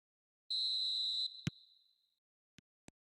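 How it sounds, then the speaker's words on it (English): In the video game eFootball, a referee's whistle blows one clear, sustained shrill blast to start the second half of a match, followed by a few faint clicks in otherwise near silence. "Whistle goes and we start the second half."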